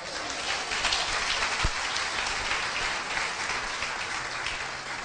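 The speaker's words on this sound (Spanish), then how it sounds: "Denle un aplauso fuerte al Señor" A church congregation applauds loudly and steadily after a sermon, a dense sustained clapping wash throughout with faint voices beneath.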